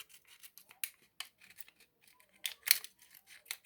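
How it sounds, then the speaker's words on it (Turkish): Scissors snip and trim cardboard for a bunny-shaped candy box, a series of quiet, close, crisp cuts and rustles spaced irregularly, with one sharper snip near the end. "Düzenlediyse makasla düzeltelim."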